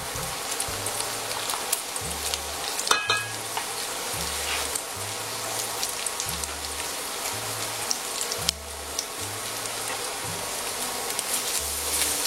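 Tomato paste and garlic sizzle and crackle in a pan for veal kidneys, a steady dense frying hiss with a low rhythmic hum underneath, close and continuous.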